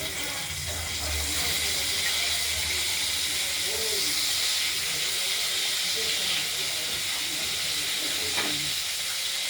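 Potatoes frying in hot oil in a pan, with tomatoes just added, while cooking a Pabda fish curry; a loud, steady sizzling hiss runs unbroken throughout.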